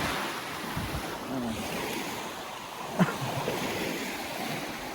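Surf washing onto a clear-water beach at Hin Khok boat landing, Tung Wiman beach in Chanthaburi, Thailand: a steady broadband wash of waves with wind buffeting, moderately loud and continuous, with one brief sharp knock near the middle.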